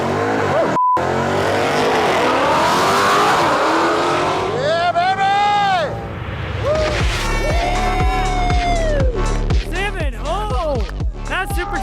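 A supercharged custom Mustang launches hard in a drag race, its engine roaring loud and close with strained revving and tire noise, then a series of rising gear-change whines as it pulls away, with people shouting over it.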